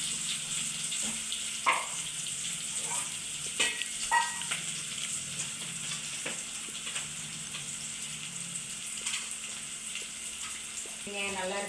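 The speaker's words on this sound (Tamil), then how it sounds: "வெங்காயம் நல்லா வேகட்டும்." Onions fry in a pan with a steady close sizzle, broken by intermittent clinks and scrapes from stirring and a faint trickle of water near the end.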